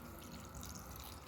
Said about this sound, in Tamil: தண்ணி சேர்த்தாச்சு.